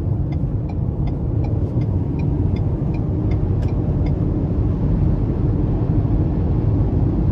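A 2023 Ford Bronco Sport Outer Banks with the 1.5-liter turbo engine pulls hard in sport mode, heard from inside the cabin as a steady, loud engine drone and road rumble that builds without a break.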